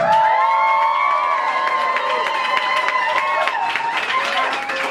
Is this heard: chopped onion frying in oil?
no